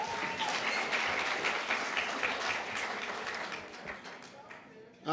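Steady applause from a crowd at the First Nations Media Awards ceremony fills the clip, dense clapping at an even level that fades slightly toward the end.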